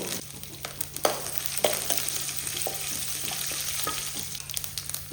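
Mustard seeds, urad dal, garlic and curry leaves frying in hot oil for a tempering, a steady close sizzle with scattered crackles and pops throughout.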